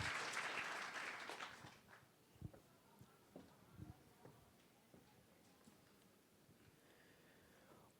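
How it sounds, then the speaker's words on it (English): Audience applause at a business plan competition, loud at first and then thinning over two seconds into a few scattered claps amid quiet room noise. "Let's give him a hand of applause."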